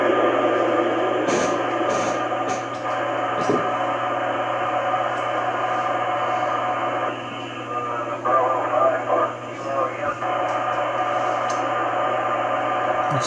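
Steady buzzing radio interference heard through an Icom 9700 transceiver during an AO-91 satellite pass, a constant droning hiss with faint tonal lines and brief clicks, fluttering and warbling midway before returning to the same level.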